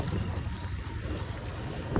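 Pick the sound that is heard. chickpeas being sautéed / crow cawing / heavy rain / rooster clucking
heavy rain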